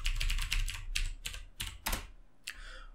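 Password being typed on a computer keyboard at a sudo prompt in a Linux terminal, with quick close clusters of key clacks in short bursts, several pauses between them and a final lone keystroke.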